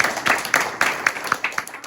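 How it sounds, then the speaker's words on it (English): An audience at a Vietnam War 50th anniversary event applauds the Biddeford High School Band and the Massachusetts Color Guard, with steady, brisk, fairly loud rhythmic clapping from a modest crowd that gradually tapers off. "I would like to start with a huge round of applause for the members of the Biddeford High School Band and the Massachusetts Color Guard"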